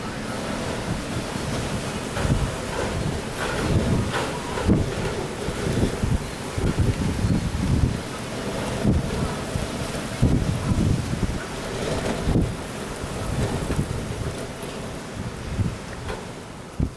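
A strong wind storm in Victorville, California, in May 2019, roaring continuously with heavy gusts buffeting the microphone and occasional knocks and rattles throughout, loud and unbroken with no talking.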